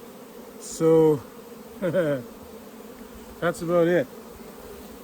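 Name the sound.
honey bees buzzing around a hive during a split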